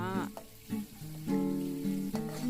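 Minced pork stir-fries in a pan for a Thai bamboo shoot dish, a steady soft sizzle running under a voice as she talks throughout.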